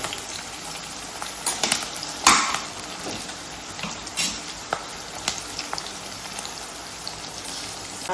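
Onions frying in a pan for a mutton curry, a steady broadband sizzle with scattered crackles and a few louder scraping stirs, heard up close with no talking.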